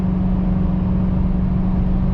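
A pickup truck engine pulls a trailer up a steep grade, a steady loud drone with a strong low hum holding even throughout, no pauses or voices.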